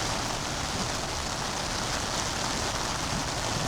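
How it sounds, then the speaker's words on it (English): Heavy rain pours down at Hanningfield Reservoir during shore fishing, a dense, steady hiss of drops on water and ground that stays constant and loud throughout, with no voices. "the rain now really picked up."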